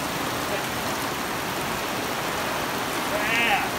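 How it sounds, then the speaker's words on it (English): Steady hiss of falling rain, dense and even throughout, with a faint brief chirp near the end. "It's raining."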